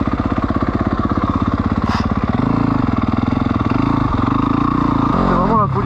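A stock Yamaha motorcycle being ridden, its engine pulsing in a fast steady rhythm close up, shifting pitch midway, with a voice talking over it.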